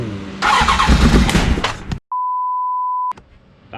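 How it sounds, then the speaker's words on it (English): A 1988 Honda Hurricane CBR1000F motorcycle engine cranking loudly up close for about two seconds, then a steady electronic beep and a quieter rumble afterward. "Let's give it a couple of cranks here."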